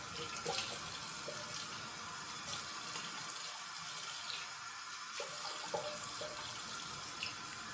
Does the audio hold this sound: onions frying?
no